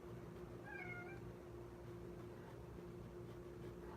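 A single short cat meow, faint and close, sounds early over a steady low indoor hum, followed by quiet room noise.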